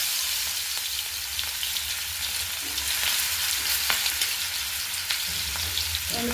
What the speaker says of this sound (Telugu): జీలకర్ర ఫ్రై అయినాక కొంచెం ఉల్లిగడ్డలు వేసుకుందాం